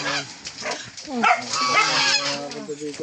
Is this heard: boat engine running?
no